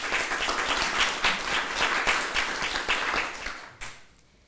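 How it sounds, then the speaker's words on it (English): Audience applause at a literary evening of French authors, a dense wash of many hands clapping steadily and loudly, then thinning and fading out near the end. "give a round of applause to Félicité du Jeu"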